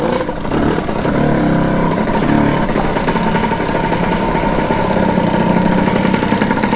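A Kawasaki KX80 dirt bike fitted with a 110cc big bore kit runs steadily up close, its loud buzzy engine holding a rough, even drone with slight shifts in pitch and no talking.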